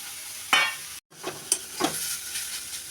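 Grated carrot fries in ghee in a kadai with a soft sizzle, broken by several scraping stirs of a spatula and one short cut, at close range without voices.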